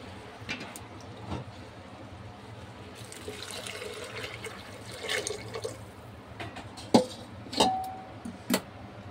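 Hot water is poured into a pan of sautéed chana dal before pressure cooking, a soft running splash rising and ebbing over several seconds, followed by a few sharp clinks of a vessel, close by and without talk.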